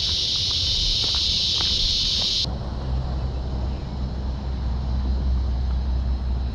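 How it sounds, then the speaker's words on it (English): A dense, loud cicada buzz drones steadily for a couple of seconds, then cuts off, leaving a low engine-like hum, by Lake Marion, South Carolina. "Man, are these cicadas loud."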